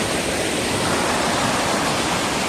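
Fast-flowing water at Marottichal waterfall in Thrissur, Kerala, a steady, loud, broadband roar rushing without pause throughout, with no voices over it.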